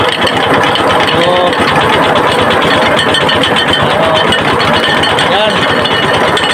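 Engine-driven abaca fiber stripping machine running at steady regular speed, a continuous loud rattling mechanical drone with a fast rhythmic clatter throughout, close by.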